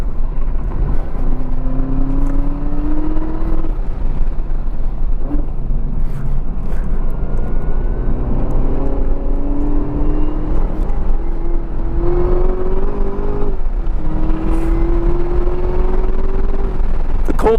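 A supercharged 2018 Chevrolet Camaro ZL1 1LE on a race track in cold weather rises through repeated climbing engine pulls, each note sweeping upward before dropping at a shift, loud and steady against constant wind and road roar.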